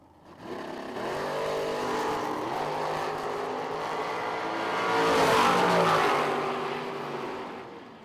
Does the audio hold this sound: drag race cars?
yes